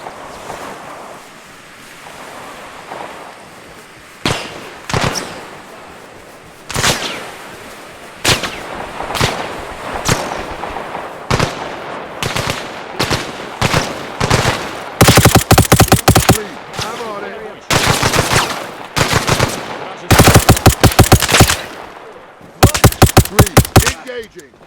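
Gunfire rings out during an AI-versus-AI airport assault in the video game ARMA Reforger. Sharp shots and rapid bursts repeat irregularly over a constant wind-like rush, growing denser toward the end.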